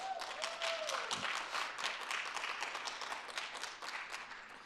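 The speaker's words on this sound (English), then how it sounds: "Can we give Jean Dinwiddie, the Senior Advisory Committee, and G-Park a big round of applause?" Audience applause during a mayor's State of the City speech, many hands clapping in a steady, faint crowd patter heard from a distance, continuing without pause.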